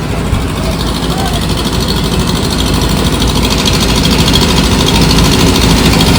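A boat engine idles at the Kozhikode fish harbour, a loud, steady low rumble that runs unbroken from start to finish, with faint voices in the background.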